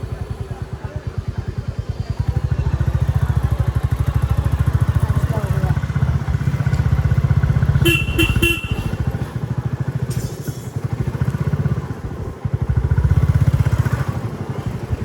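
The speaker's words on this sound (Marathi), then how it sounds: "चला हे बघा गाडी आली आपली." A motorcycle engine runs steadily and close by for the whole stretch, with a few short horn-like tones near the middle.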